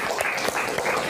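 A school class claps their hands together to liven up a classroom game, producing dense, steady group clapping that fills the brief moment at close range.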